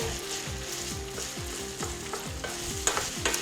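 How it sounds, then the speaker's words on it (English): Green peppers, garlic and ginger stir-fry in a hot pan, giving a loud continuous sizzle with rhythmic scraping strokes of a utensil and a few sharper clicks near the end, close and without speech. "the next thing we're going to add into there are the green peppers and the garlic and the ginger, and mix that through"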